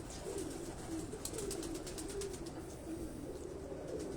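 Pigeons in a Karachi rooftop breeding loft coo repeatedly in soft, low rolling calls, several birds overlapping nearby against a steady wash of background noise, with faint chirps higher up.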